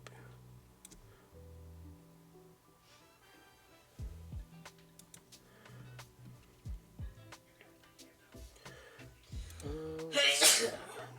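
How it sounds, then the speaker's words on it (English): A single sharp sneeze bursts out near the end, from someone in the background of a quiet room, after a stretch of soft ticking and small tapping sounds. "sneeze in the background"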